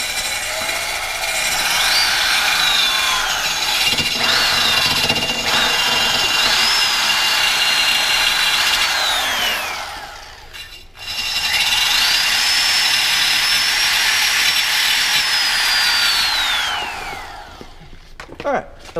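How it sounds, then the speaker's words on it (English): Grinding wheel biting into a 1983 Yamaha Virago motorcycle exhaust baffle, two loud close bursts of harsh metal grinding with a rising and falling whine, separated by a short pause. "let's go ahead and hit this with the grinding wheel"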